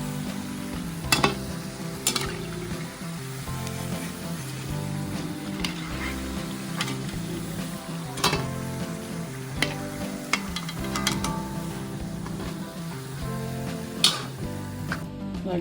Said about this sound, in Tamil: எண்ணெயில் போட்டு எடுத்து பார்க்கணும்.